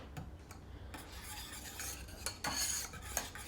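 A cold gummy mixture of gelatin and foaming carbonated liquid is stirred, producing quiet scraping and rubbing strokes of a utensil against the container, with a soft fizzing texture between strokes.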